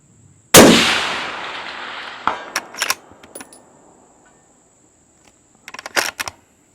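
A Seekins rifle fitted with a muzzle brake fires one sharp, loud, cracking shot that fades quickly. Brief clicks and metallic rattles follow, with a high steady whine underneath.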